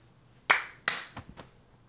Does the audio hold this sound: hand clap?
yes